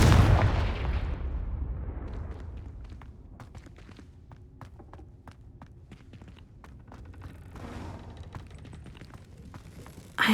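A Confringo fire spell cast in Hogwarts Legacy inside the Room of Requirement goes off with a loud burst at the start, followed by scattered sharp cracks and clatter that fade, then another loud impact at the very end.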